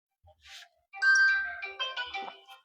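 A mobile phone ringtone plays loudly and close by, a bright repeating electronic melody of several seconds that follows a short rustle, with no talk over it.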